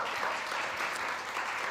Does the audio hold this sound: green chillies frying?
no